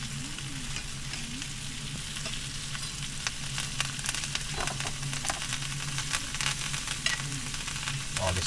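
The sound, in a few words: meat sizzling in pan, basted with butter, garlic, thyme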